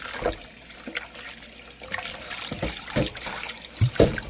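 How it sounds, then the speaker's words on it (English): More water poured over pork ribs in a sink for a vinegar wash, a steady close trickle and splash with irregular louder bursts of running water, no voices. "Add some more water."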